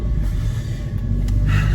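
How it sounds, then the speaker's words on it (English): An EcoFlow portable power station runs while charging a MacBook off the car inside a Fiat Doblo micro camper, giving a steady low rumbling hum that fills the whole clip, close and continuous. "That noise you hear is the EcoFlow, because I'm charging my MacBook,"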